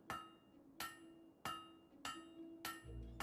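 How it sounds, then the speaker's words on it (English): A smith's hammer strikes an anvil in the video game Fable 3, five sharp, ringing metallic clangs at a steady pace with resonant tails, alone and fairly close. "Stop hitting the anvil."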